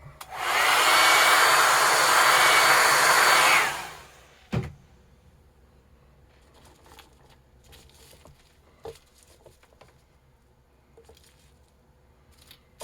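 A hair dryer blows steadily and loudly for about four seconds over fresh paint on a custom crappie bait, then cuts off, leaving a sharp thump and faint scattered handling noises in a quiet room.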